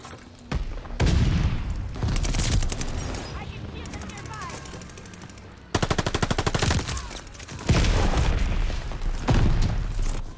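Rapid machine-gun bursts from a Bren light machine gun in Call of Duty: Vanguard, loud and close, firing in several long strings with brief pauses and a heavy boom between them.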